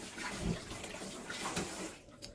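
Ginger is rinsed under a running kitchen tap, with a soft, steady splash of water broken by small irregular spatters. It is fairly quiet and fades near the end.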